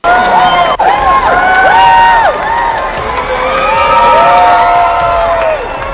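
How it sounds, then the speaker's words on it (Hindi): A large crowd at the Kennedy Center shouts, chants and boos at Donald Trump, with loud, continuous overlapping yells and rising and falling voices filling the space throughout. "जनता उन्हें सबके सामने ह्यूमिलिएट करती है, नारे लगाती है, उनके खिलाफ बू करती हुई दिखाई देती है"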